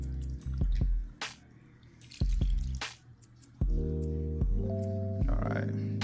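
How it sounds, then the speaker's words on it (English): Homemade buttermilk is poured over chicken in a home kitchen, giving wet drips and splashes that come in short bursts among a voice and some handling noise. "I'm gonna go ahead and pour it over this chicken right here."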